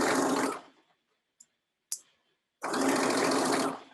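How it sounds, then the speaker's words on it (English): A sewing machine stitches a seam in a lined dress in two close, loud bursts. Between them comes a quiet pause with a couple of small clicks and taps as the fabric is repositioned. "Okay, let's go stitch this."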